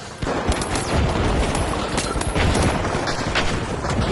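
Rapid video game gunfire rattles in dense bursts, a teammate spraying shots nonstop for several seconds, loud and close with sharp cracks layered over each other.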